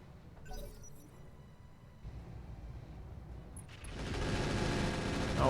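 Mech weapons firing in the Battletech Roguetech mod, a steady dense rumble building into a loud, harsh roar of fire near the end, with no talk over it.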